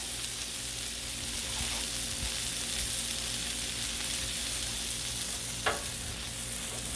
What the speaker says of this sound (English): Getting a little bit of crust on the bread.